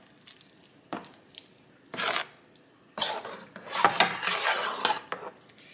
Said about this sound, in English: I'm going to mix it all up really well.